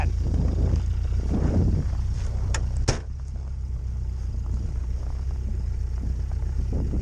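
An iced-over Lada car idles after a cold start, its engine giving a steady low rumble. A brief clatter comes near the three-second mark, then the running drone carries on under wind noise.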